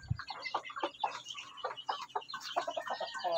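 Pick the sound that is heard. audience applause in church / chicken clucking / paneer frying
chicken clucking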